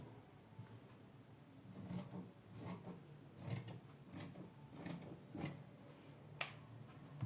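Fabric being cut for a yoke pleated nightdress pattern, heard as faint, close rubbing and snipping sounds in irregular bursts against a quiet background.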